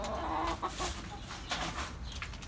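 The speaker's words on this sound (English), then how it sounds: "This hen keeps going into all the boxes." A hen in a farmyard clucks in short, soft, repeated bursts, fairly faint against a steady background hiss, with no talking.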